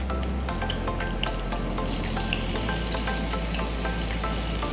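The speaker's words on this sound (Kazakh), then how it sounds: "Дәл осы сәтте қызып тұрған майымызға тауығымызды саламыз." Chicken frying in hot oil in a non-stick pan, making a continuous dense crackling sizzle with sharp pops, steady and close throughout.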